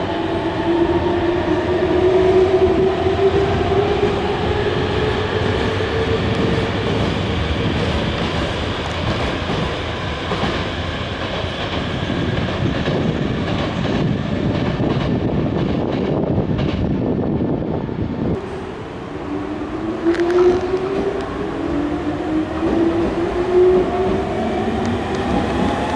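Nankai Main Line trains, including a limited express, roll through Sakai Station at evening rush, a steady loud rumble of wheels and motors with clattering rail joints, brakes squealing as cars pull in and depart, lasting throughout.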